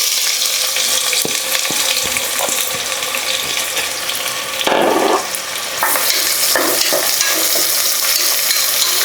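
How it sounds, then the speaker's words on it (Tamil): Onions fry in hot oil for mutton biryani, a loud continuous sizzle broken by scraping stirs of a spoon against the pan, with a brief louder gush midway. "வெங்காயம் வந்து பொன்னிறமாக வதங்கி வரட்டுங்க"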